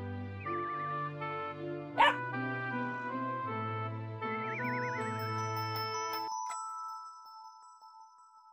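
A cartoon puppy's barks and yips in a children's animated show, set against a sustained musical backing with a sharp chime midway and a fading tone at the end.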